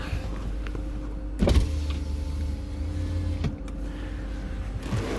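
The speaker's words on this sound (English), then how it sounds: "Better open the windows, it's gonna be hot." Power windows on a 1997 Lincoln LSC whirring open, a steady electric motor hum from inside the car with brief clunks around the start and stop of travel.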